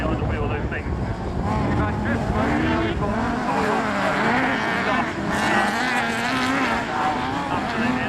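Autograss race cars at Castle Combe circuit roar through a close-fought race, a dense, continuous engine drone with shifting revs, while a commentator talks over the top throughout.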